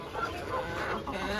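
Several chickens on a small egg-laying farm cluck in a steady, close-up chorus with no break, mixing crosses of Sarail, Aseel-type and hill breeds.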